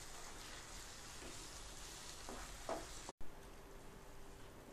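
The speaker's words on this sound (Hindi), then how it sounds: "हम इसे तेल छूटने तक धीमी आंच पर पका लेंगे।" A vegetable masala with red chilli powder and salt cooks in oil over a low flame, giving a soft, quiet, steady sizzle with faint stirring and one brief break.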